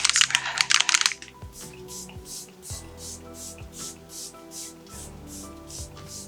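Makeup setting spray spritzes in a quick, close burst of hissy mist lasting about a second, followed by quieter rhythmic background noise.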